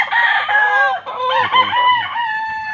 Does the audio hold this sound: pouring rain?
no